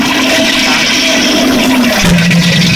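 A toilet flushes in one continuous loud rush of water that holds steady for about three seconds, with a gurgling shift near the end.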